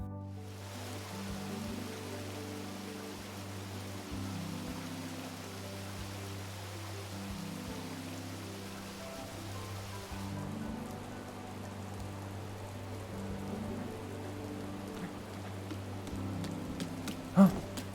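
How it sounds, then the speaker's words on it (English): Rain falling at Zora's Domain in the video game The Legend of Zelda: Breath of the Wild, a constant pattering hiss over a low, droning music bed, steady throughout with a few brighter drips near the end. "It's just so relaxing, especially with the rain sound."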